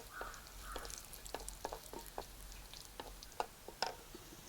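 Dried red chillies fry in hot oil for a Kerala drumstick-leaf curry, a soft steady sizzle with scattered crackles and pops, fairly quiet and close, with no talking.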